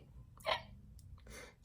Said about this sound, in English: Pete has the hiccups.